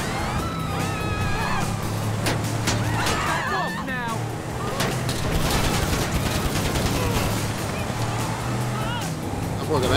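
Gunfire in the GTA V video game, rapid bursts of shots mixed with vehicle noise and a busy game soundtrack, with someone talking over the action.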